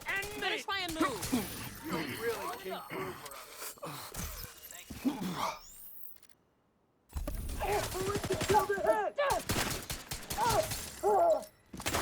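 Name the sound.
gunfire from enemy boss in the video game Division 2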